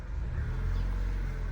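A Vauxhall Corsa D SXi drives under its own power, a steady low engine rumble and road drone heard from inside the car, with no voices.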